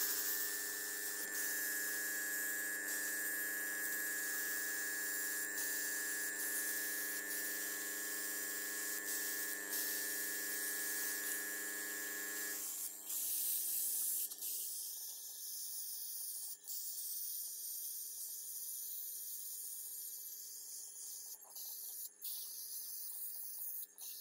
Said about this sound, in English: So that's why I'm using an airbrush.